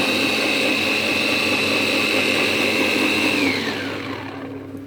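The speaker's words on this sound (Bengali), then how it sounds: "এখানে কাঁচা লঙ্কা, ধনে পাতা বাটা করছি" An electric grinder whirs loudly and steadily while grinding green chillies and coriander leaves, then its pitch drops as it winds down near the end, close up with no talking.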